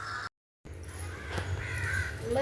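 Caws from a crow that has made off with a fish ring out outdoors, harsh and fairly close, after a short gap of silence, growing a little louder toward the end.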